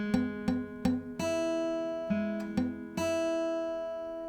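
Guitar chord fretted with a finger lying too flat, strummed several times in a quick uneven rhythm, each strum ringing with harmonics and some notes sounding dull or choked, close and alone.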